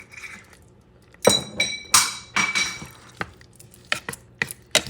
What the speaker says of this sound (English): Mix things around.